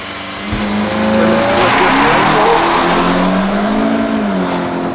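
A 2018 Volkswagen GTI Mk 7.5 with performance pack revs hard and accelerates as the tires squeal and spin, engine loud and close, the whine rising and falling throughout.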